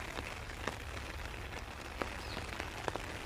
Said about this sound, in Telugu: ఫుల్ వర్షం వస్తుంది